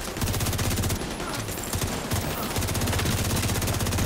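Rapid automatic rifle fire from a shooter game set in Division 2, sustained bursts with a short pause midway, loud and close throughout with no talk over it.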